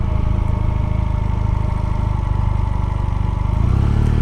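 A steady engine drone, most likely a passing vehicle near a parked Honda Hondamatic motorcycle on the road to Green Mountain Trail, holds a continuous mid-level rumble that swells slightly toward the end, with no talk.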